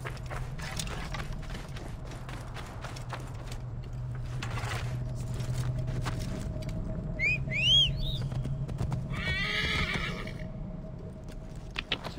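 Horses in the Assassin's Creed Origins video game give two sharp whinnies amid steady clip-clop of hooves, with bird calls and whistling chirps in the background and no talking.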